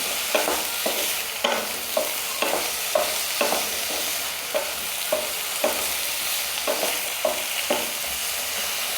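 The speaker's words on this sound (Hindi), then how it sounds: "तो सबसे पहले हम आलू को फ्राई करेंगे।" Potatoes frying in a pan for mixed vegetable sabzi, a steady sizzle broken by regular close scrapes of a spatula stirring, with no talking.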